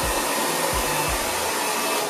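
A hair dryer blows steadily, close and loud, drying a man's hair in a continuous airy roar with a few low bumps as it is moved about.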